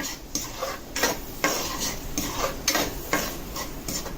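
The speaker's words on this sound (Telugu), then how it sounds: "ఇప్పుడు ఒక్కసారి కలుపుకొని మూత పెట్టుకోవాలండి." Sai Baba prasadam stirred in a cooking pot, a steady, close scraping of a spoon against the metal in rhythmic strokes about every half second, with a soft sizzle underneath and no voices.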